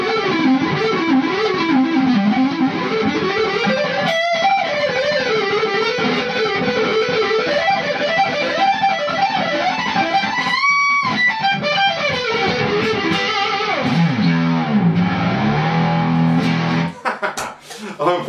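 A distorted electric guitar plays a winding melodic line, sustained and gritty, with quick picked runs and a brief pause near the end.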